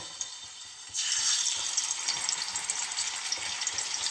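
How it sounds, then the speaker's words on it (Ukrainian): Pork ribs dropped into hot melted lard, a loud sizzle bursting in after a second and holding as a steady, close crackling hiss with faint pops. "О, і обжаруємо ребра"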